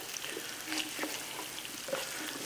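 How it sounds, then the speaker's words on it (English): Bacon and potatoes fry in a pan with a quiet, steady sizzle and a few soft scrapes and clicks of stirring, no voices. "If you can see, our bacon's cooking. We want to stir it around so it don't burn."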